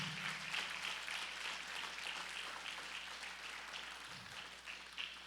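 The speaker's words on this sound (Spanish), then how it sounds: "Dele palmas con fuerza al Señor" A church congregation claps loudly and steadily through a worship service, a dense continuous wash of many hands with no talk over it.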